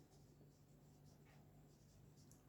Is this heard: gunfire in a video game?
no